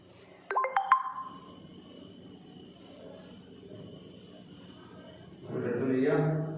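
A mobile phone ringtone sounds as a short rising burst of bright electronic beeps, then a faint steady tone lingers before a voice speaks over low room noise.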